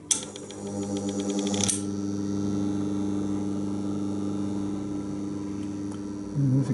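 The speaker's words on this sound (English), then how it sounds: "And there's a clicking noise past a certain point." A 35mm film projector being converted for Kinemacolor runs with a steady mechanical hum and whirr, a rapid ticking clatter at the start that stops sharply, then continuous running close by with no talking.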